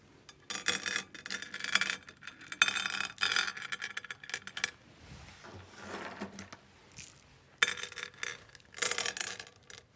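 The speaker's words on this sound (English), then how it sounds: "We're going to fill in the outside rim of this whole piece using our Koei decorative stones." Koei Green Breeze decorative stones, painted with lead-free paint, are poured into the outer rim of a flower arrangement: bursts of clinking, rattling pebbles that stop and start, close by, with no talking.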